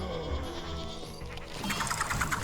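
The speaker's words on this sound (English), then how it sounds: "so many of them now have been turned into sheep" A sheep bleats in the Plants vs. Zombies 2 video game, faint and brief amid busy, continuous game music and effects, with brighter calls toward the end.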